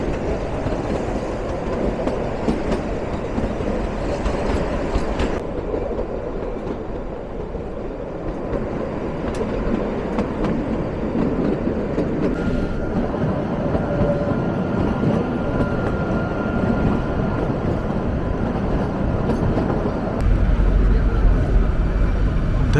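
Kalka–Shimla narrow-gauge toy train pulling out of tiny Kumarhatti station in Himachal, a loud continuous rumble with clattering wheels and rattling carriages, swelling louder near the end.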